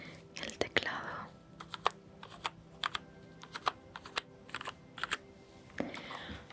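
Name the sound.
computer keyboard typing, ASMR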